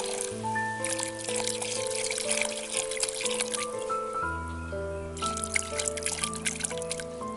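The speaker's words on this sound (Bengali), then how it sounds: "মশলাগুলো হালকা কষিয়ে নেওয়ার পর আমি দেবো একটু জল।" Water is poured into a pan of lightly fried spices while cooking a village-style cauliflower dish with snails, giving a soft trickling and pouring sound under background music.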